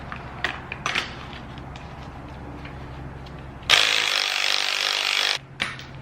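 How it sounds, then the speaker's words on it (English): A loud burst of an impact wrench whirring for under two seconds, removing a 14 mm bolt on a Golf R rear strut mount, sharp and close, after a stretch of quieter background clatter. "so we'll impact this out, put the new one on, and replace it."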